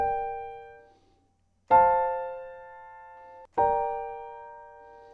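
Simple piano chords struck one after another, three in all, each ringing out and slowly decaying in a quiet, plain progression.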